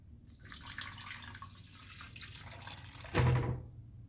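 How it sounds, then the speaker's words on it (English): One cup of warm water poured into a bowl with yeast and sugar for pizza dough, a continuous close splashing stream ending in a brief louder gush. "And now you add in the water."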